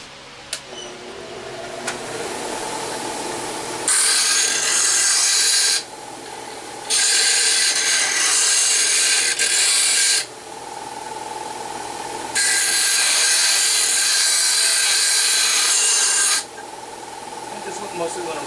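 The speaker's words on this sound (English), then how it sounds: "Grinder." A power grinder rounds off the corners of a wooden lamp body, loud rasping bursts of sanding-like abrasion starting and stopping in several long passes between quieter whirring gaps.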